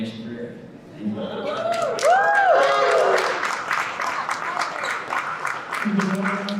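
Applause builds from a crowd and continues steadily, with a few brief tonal sounds and murmurs mixed in near the start.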